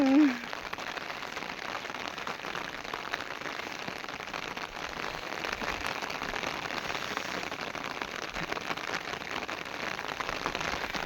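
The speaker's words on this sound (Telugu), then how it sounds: "వర్షం అయితే బాగానే పడుతుందండి ఫుల్ అనమాట" Steady, dense rain hisses continuously throughout, a broad wash of falling water with no pauses, fairly loud and close.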